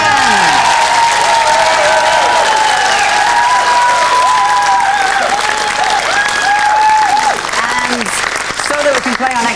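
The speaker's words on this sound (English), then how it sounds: "let's have a big round of applause for Alison and Ian!" A game show studio audience applauds loudly and continuously for contestants, with cheering and whoops over the clapping and voices talking through it.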